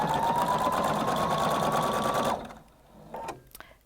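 A Husqvarna Viking Designer Brilliance 80 sewing machine stitches sequins in a fast, even whir, close and loud, then stops abruptly, leaving a few light clicks and handling sounds.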